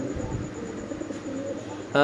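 Pigeons coo softly and low, with someone talking over them indoors. A brief louder sound comes at the very end.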